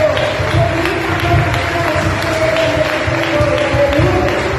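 A church congregation clapping along steadily in rhythm during a worship service, the even claps layered over music and singing voices at a moderate, room-filling level.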